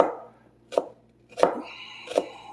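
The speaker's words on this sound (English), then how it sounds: "Try to cut them pretty thin." A knife slicing vegetables thinly on a cutting board: three distinct, evenly spaced chops with crisp board knocks, close and clear against quiet.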